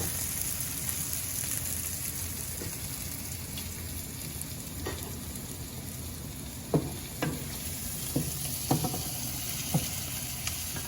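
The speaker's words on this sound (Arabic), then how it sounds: "بكفي بتحمير هول البصل لحتى يشيل منه لزين" Onions sizzle steadily in a pan for a Lebanese fish and rice dish, a constant broadband frying hiss with a few sharp crackles and pops near the end.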